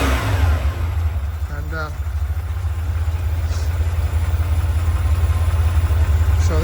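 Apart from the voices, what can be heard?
1979 Ferrari 512 Boxer engine revving and idling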